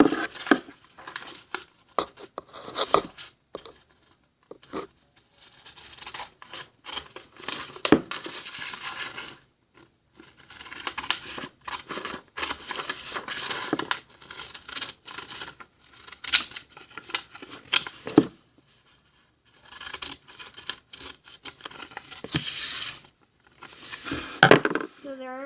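Scissors snipping through the cardboard front of a Pop-Tart box, a long run of close, dry clips and rustles broken by brief pauses, fairly quiet throughout.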